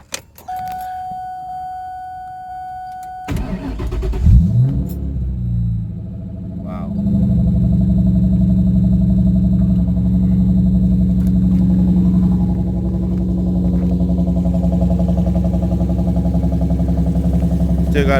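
A 1984 Ford LTD LX with a factory 5.0 V8 starts up and settles into a loud, steady idle with a deep rumble, close by. Keys jingle and a person speaks briefly before the engine fires.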